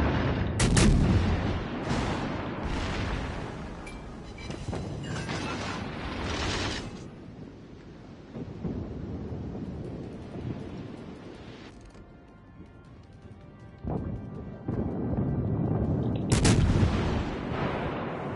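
Naval guns firing in World of Warships Legends on PS4, repeated loud booming salvos with sharp cracks, clustered at the start and again near the end, with rumbling battle noise between.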